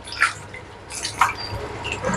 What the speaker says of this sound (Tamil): ரெண்டாவது வாஷ் பண்ணுறேன் பாருங்கள்